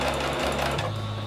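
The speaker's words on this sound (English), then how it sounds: "I'm not gonna back stitch. I'm just gonna sew straight." A sewing machine runs steadily as it stitches a straight seam on doll clothes without backstitching, a loud, close, continuous whirring hum that dips slightly toward the end.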